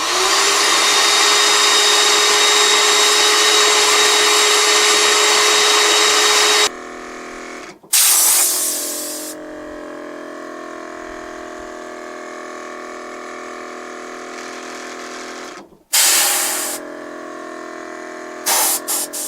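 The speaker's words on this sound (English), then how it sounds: "I like to get it right into that flue so I can shoot compressed air up it and dislodge anything that might be in place" Loud, steady hiss of a Viair air compressor blasting compressed air into the flue of an RV fridge's LP gas burner, running continuously, then dropping to a softer hiss with a motor hum, broken by sharp bursts of air.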